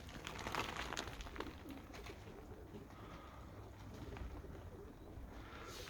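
Soft, low cooing from pigeons with unopened-eyed chicks murmurs steadily through the clip, fairly close, with a faint flutter of movement and a dull background hum.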